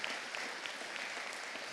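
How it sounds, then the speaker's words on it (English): Faint, distant applause from an audience at a fashion show, a soft, continuous patter of many hands clapping at a low, even level. "A round of applause for all of them and all of you."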